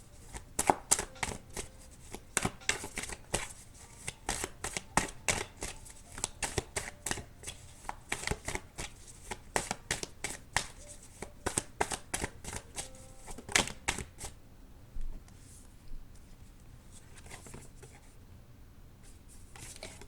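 A large deck of tarot cards is shuffled repeatedly, a long run of crisp, close riffles and slaps in an uneven rhythm that thins out toward the end into quieter handling.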